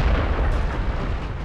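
Tank gun firing in the video game World of Tanks, a single heavy boom with a long rumbling decay that fills the whole moment, loud and close.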